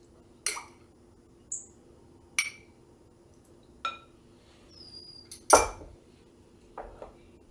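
Homemade pie crust dough is mixed in a bowl, with sparse, close clinks and knocks of a utensil against the bowl at irregular intervals over quiet background.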